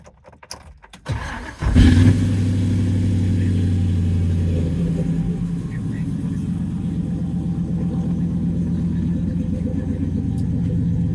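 A 1967 Pontiac GTO restomod with a 6.0L LS engine and Flowmaster exhaust cranks over and fires, settling into a loud, close, deep burbling idle with a steady rhythmic lope.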